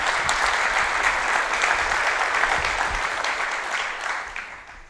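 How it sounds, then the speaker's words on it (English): A campus audience at a university state-of-the-campus address bursts into applause, a dense, sustained clatter of many hands that holds steady and then gradually thins toward the end. "I think you should explode into applause, actually"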